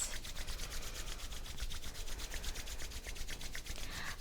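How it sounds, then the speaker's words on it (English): Steady dry friction of palms rubbing briskly together, a continuous soft swishing texture with faint rhythmic strokes, close and quiet, no one speaking. "Start to rub your hands together, just building some warmth."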